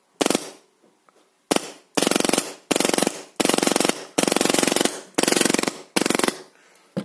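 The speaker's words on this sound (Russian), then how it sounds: "микропереключатель режима огня, то получим, естественно, автоматическую очередь." An airsoft gun with an HPA electronic kit in a version 2 gearbox fires a series of rapid full-auto bursts, each a dense rattling stream, loud and close, with short gaps between them and no talking.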